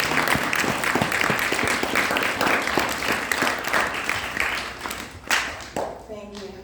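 Audience at a Krishna devotional gathering claps for two young performers, a steady patter of hand claps mixed with murmuring voices and some speech, thinning out near the end.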